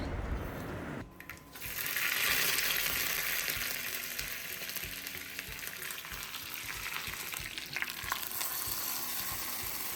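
Raw rice being tempered in hot coconut oil in a home kitchen, a steady loud sizzle and crackle after a brief quiet start, with occasional clinks of a spoon stirring the pan.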